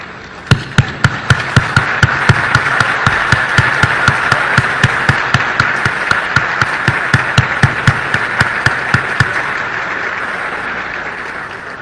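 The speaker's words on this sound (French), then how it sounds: "je invite nous encore une fois pour nous bailler un encouragement avec applaudissements que nous allons rebailler debout" An audience rises for a standing ovation at a speech by President Aristide, a steady wash of clapping with loud, regular rhythmic claps on top that fades out near the end.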